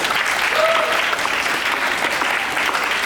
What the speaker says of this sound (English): Let's have a round of applause for her